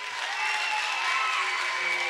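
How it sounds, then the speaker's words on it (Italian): Steady applause from a crowd, continuous clapping filling the whole stretch at moderate volume with no talking. "applauso per l'ape italiana"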